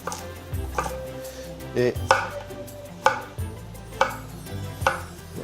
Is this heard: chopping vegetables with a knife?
yes